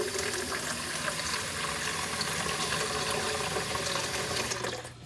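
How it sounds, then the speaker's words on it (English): Water pours and splashes steadily into the bottom of a plant pot being prepared for an avocado seed. The stream is loud, close and continuous and cuts off near the end. "the first thing you want to do is add a little bit of water at the bottom."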